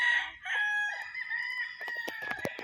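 Mount Banahaw bloodline gamecocks crow close by in a long, loud call with another rooster overlapping, followed by scattered clucks and clicks.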